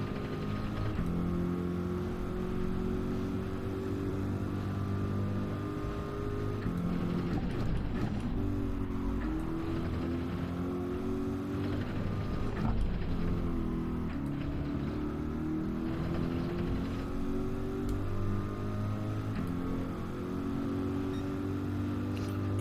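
A Porsche 996 engine drones in Gran Turismo 7, a sustained whining hum whose pitch rises and falls with shifts, heard steadily from start to end with brief rougher patches.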